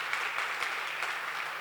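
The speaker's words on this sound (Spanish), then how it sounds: "Dale un aplauso fuerte a Dios" Church congregation applauding during a sermon, a steady, dense wash of clapping from a large crowd held at an even level throughout, with no speech over it.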